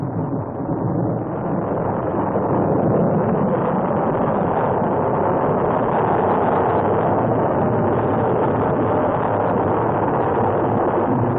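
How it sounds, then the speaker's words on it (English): A rear-engine Plymouth Barracuda funny car makes a quarter-mile drag racing qualifying pass at Orange County International Raceway, a sustained, dense, loud roar that barely varies throughout, with no speech. "Dunn is underway down the quarter mile in his qualifying attempt"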